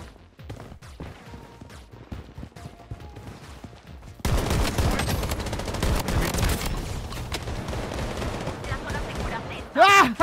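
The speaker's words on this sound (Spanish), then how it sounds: "Ahora están disparando para acá." Rapid bursts of gunfire in the shooter game BloodStrike, sparse and lighter at first, then a dense, loud sustained barrage of shots after a few seconds, ending with a sharp louder burst.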